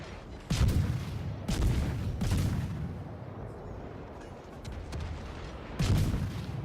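Naval guns boom in a World of Warships clan battle, a few heavy salvos spaced a second or more apart over a rumbling game background, with no talk heard.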